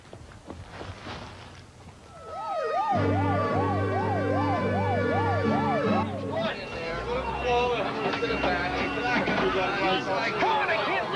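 An ambulance siren wails loudly in rapid rising and falling cycles, then shifts to a denser, harsher siren with background commotion.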